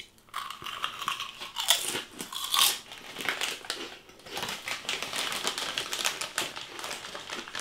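Yorkshire crisps being crunched close to the microphone, a run of sharp, crackly bites and chewing in quick irregular bursts, fairly quiet with no talking.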